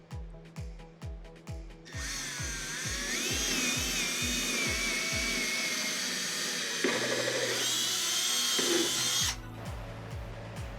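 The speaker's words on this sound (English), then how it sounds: "And then pre-drilling for a couple of lags." A drill pre-drilling holes for lag screws while building a DIY miter saw station, one long loud whine of about seven seconds as the bit bores into wood, framed by rhythmic thumping beats before and after.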